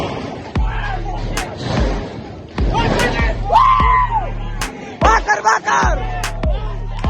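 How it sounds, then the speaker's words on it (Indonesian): A crowd shouts and yells in bursts during an attack on a police station in Jeneponto, with loud sharp bangs and cracks cutting through the agitated voices, close and chaotic. "Teriakan-teriakan terdengar."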